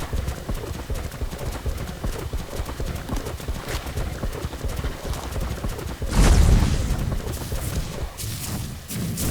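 Horse hooves clip-clop in a quick, steady rhythm close by, with a brief louder thump partway through.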